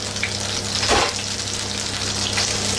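Corned beef fritters fry in a pan with a steady close sizzle, swelling briefly into a louder hiss near the middle, with no talk.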